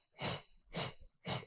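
Three measured workout breaths, each a soft close airy rush with a slight wheezy edge, evenly spaced about half a second apart, alone with no talk.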